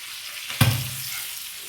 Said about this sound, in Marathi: पुन्हा मागची बाजू पण आपण अशीच फ्राय करून घेऊया